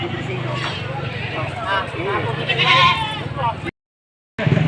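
Boer goats bleating repeatedly at a goat market in Padre Garcia, Batangas, over a steady low rumble and background crowd noise, with a brief silent gap near the end.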